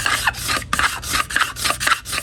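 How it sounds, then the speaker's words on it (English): Close, repeated rasping strokes as excess base weld is scraped off a ski base, several quick back-and-forth scrapes in a rough rhythm with brief gaps between them. "I'm scraping all the excess off"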